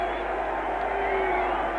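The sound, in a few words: crowd applause and cheering in London celebration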